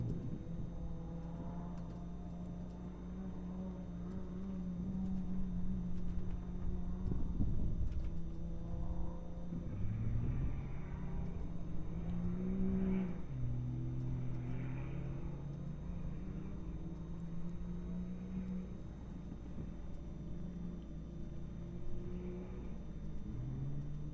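A Can-Am off-road race vehicle at the VORRA Stomping Grounds 300 desert race rumbles past, its engine droning and revving loudly as it nears and then fades into a steady low growl.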